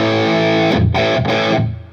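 Sustained distorted electric guitar chords ring through an amp, with a couple of sharp chord changes and a washy reverb tail as it fades.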